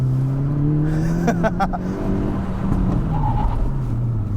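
2022 Hyundai Elantra N high-performance sedan braking hard on an autocross course, a loud close engine drone with shifting pitch and tyre noise as the car slows aggressively.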